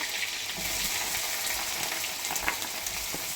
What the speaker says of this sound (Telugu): మన కారానికి సరిపడా పచ్చిమిర్చి అలాగే ఆనియన్స్ కూడా వేసేద్దాం